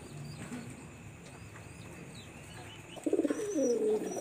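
Pigeons in a home loft, a master breeding pair among them, give a burst of low rolling coos near the end after a quieter stretch of faint background rustle.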